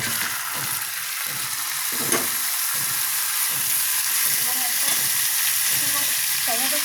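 Chicken goes into a pan of lightly fried onions, giving a steady frying sizzle with soft stirring knocks underneath, close and continuous.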